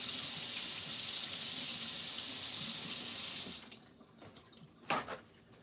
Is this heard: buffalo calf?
no